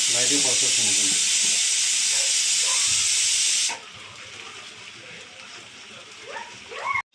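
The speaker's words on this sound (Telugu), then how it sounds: "అదిగోండి బంగాళదుంప అయితే ఫ్రై అవుతుందండి" Potatoes frying in a pan in a home kitchen give a loud, even hiss that cuts off abruptly about halfway, leaving quieter kitchen sounds and some talking.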